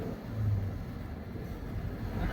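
A weighted vehicle driving smoothly along a road, heard from inside as a steady low engine and tyre rumble, with no talking.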